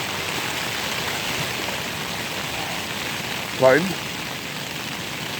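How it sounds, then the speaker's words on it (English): Heavy pouring rain gives a loud, steady hiss that fills the whole stretch without a break. A short spoken word is heard briefly over it. "It is pouring rain right now."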